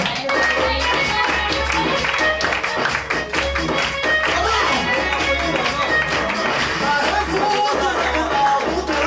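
An audience claps steadily in a dense, continuous patter at an Indian stage event before a final round, sustained throughout with a low rhythmic music beat underneath.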